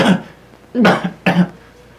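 A player imitates a raspy, hacking cough for a tabletop game character, a smoker coughing up a lung; three rough bursts, the first faint, then two louder close-miked ones a half second apart.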